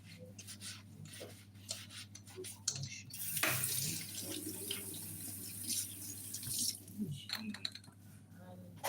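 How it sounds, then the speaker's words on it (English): A kitchen tap runs steadily into a sink while dishes are washed during chicken pie cooking, a constant hissing wash with clinks of cutlery and dishes and people talking over it. "Clean up your dish, wash and clean."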